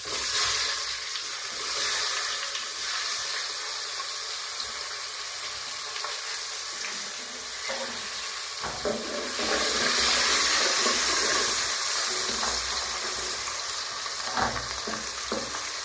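Green garlic and onions frying in a pan, a loud continuous sizzle with bursts of stirring and scraping, close and steady throughout with no talking.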